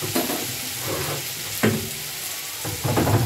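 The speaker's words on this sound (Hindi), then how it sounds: "बहुत कुछ भून रही है इसमें तो मैंने टमाटो भी ऐड कर दिया" Tomatoes frying in a pan for poha, a soft crackling sizzle with a few scraping stirs, close and steady throughout.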